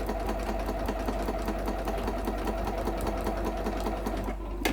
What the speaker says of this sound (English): I'm actually coming up to that part that I need to sew